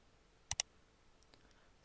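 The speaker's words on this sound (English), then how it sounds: "And now I will click on New Layer." Two quick, crisp computer mouse clicks in close succession, close and clear against near silence, followed by faint small ticks.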